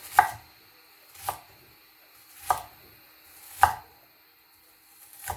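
An onion being chopped on a cutting board, five distinct knife strikes landing roughly a second apart, close and clear with no talking.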